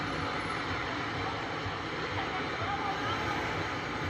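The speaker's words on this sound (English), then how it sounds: "Cars going past, what have you." Street traffic in New York City streams past as a steady, broad roar of cars with no distinct pass-bys, a constant wash of city noise while a voice talks over it.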